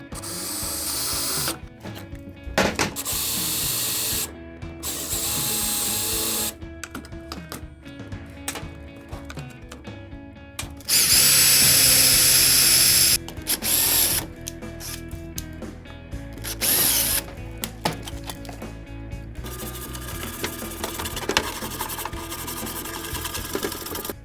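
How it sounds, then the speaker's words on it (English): A power drill bores out fixings on a fibreglass engine part of a 1967 Jaguar E-Type, running in loud whirring bursts separated by short pauses, with one higher, harsher stretch midway. "So I'm going to have to drill out these and refix them in place."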